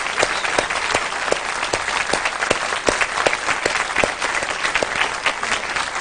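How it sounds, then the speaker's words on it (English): Steady audience applause filling the room, dense clapping with sharp individual claps standing out, loud and continuous with no talking. "I think Carolyn deserves a big round of applause."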